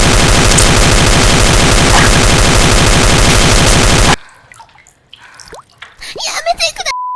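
A cursed weapon blasts in the Counter-Strike video game as a dense, loud, continuous burst of rapid fire for about four seconds. It then cuts to quieter scattered sounds, with a voice talking.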